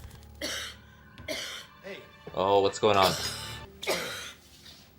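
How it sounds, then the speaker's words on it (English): A few harsh coughs and throat-clearing sounds break up nearby conversation, with voices speaking before and after the coughing. "The cough continued to get worse"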